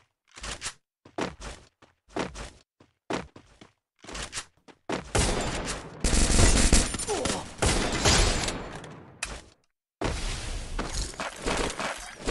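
Video game gunfire crackles in short bursts, then long sustained volleys of rapid shots and impacts, loud and close.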